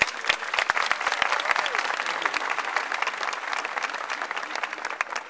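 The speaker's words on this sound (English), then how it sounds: "Graduates, please let's take this opportunity to give a round of applause to those who have supported us." A graduation audience applauds, a sustained, dense patter of many hands clapping that fills the hall at steady loudness, with scattered sharper claps standing out near the front.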